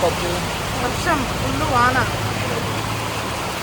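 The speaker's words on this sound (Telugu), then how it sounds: "ఫుల్ వర్షం అయితే బాగా వస్తుందండి ఇక్కడ" Heavy rain pours down steadily on a roadside where people have stopped to wait, a constant dense hiss filling the whole clip while voices talk over it.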